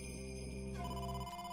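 An incoming phone call ringing in the video game AI: The Somnium Files, a steady electronic ringtone with repeating tones that shifts pattern partway through, loud and alone.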